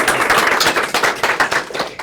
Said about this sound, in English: It's never a good idea to interrupt your CEO's round of applause